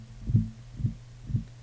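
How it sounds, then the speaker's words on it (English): A bass track plays through an echo effect in the Ardour editor on Linux: three soft, deep thumping notes about half a second apart, each with a low ringing tail, fairly quiet and alone. "you can hear the echo playing back"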